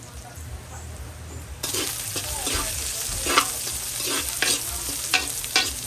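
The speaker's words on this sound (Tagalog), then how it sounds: "So, gisa lang ang bawang." Garlic sautéing in a hot pan for a farm dinner, starting with a loud sizzle that suddenly swells into steady frying, with repeated scraping stir strokes and light clinks of a utensil against the pan.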